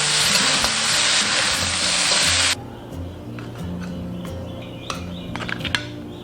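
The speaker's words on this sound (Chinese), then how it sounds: "加入螃蟹，葱段，一点点煮面粉勾薄芡，大火翻炒1分钟就可以了。" Crab with cauliflower and scallion pieces stir-fried over high heat: a loud, steady sizzle for about two seconds, then quieter frying with clanks and scrapes of the spatula in the wok.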